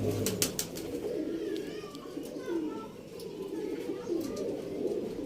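Breeding pigeons coo in soft, repeated low calls close by, with someone talking over them throughout.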